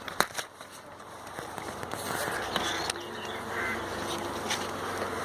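Honeybees buzz at an opened hive with the queen excluder being lifted off. Sharp crackles and clicks from handling come first, then a thin, steady buzz swells and holds close by.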